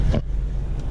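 A car drives in to park, giving a low engine rumble close by with a brief louder burst at the start, then a steady hum, and a short faint whoosh near the end.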